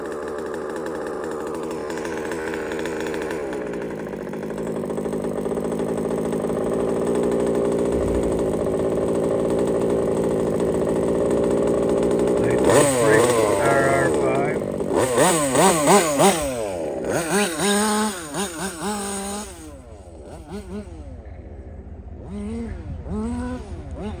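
Big bore Taylor RC car engine fitted with an exhaust pipe, buzzing steadily and loud for about twelve seconds, then revving in sharp rising and falling bursts toward full throttle.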